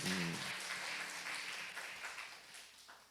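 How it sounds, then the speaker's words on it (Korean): A church congregation applauds during a Sunday worship service, a broad wash of clapping that starts strong and slowly fades over a few seconds, with a brief sung or spoken tone at the very start. "우리 하나님께 영광의 박수를 드립니다"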